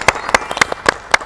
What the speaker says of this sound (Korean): 박수 한번 드려야 될 것 같아요.